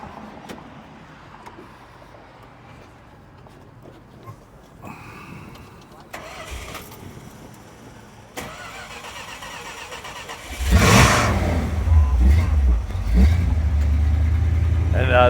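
A Chrysler big block V8 car starter cranks after a quieter stretch of handling noises, then the engine catches and roars loudly, running rough and revving close by.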